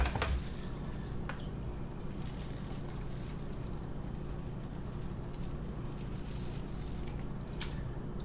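Soap batter made with seawater, lye, silk, seaweed and kaolin clay is stirred continuously to smooth out lumps, giving a steady wet swishing and churning sound close by with no talking.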